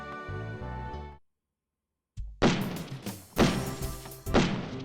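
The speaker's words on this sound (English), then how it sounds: "triggers are pulled and the sounds of loud gunshots fill the air" Loud gunshots from a life-size Gunvarel robot in the Robotics;Notes DaSH video game, three sharp blasts in quick succession after a brief silence, each with a heavy ringing tail, preceded by a tonal musical passage.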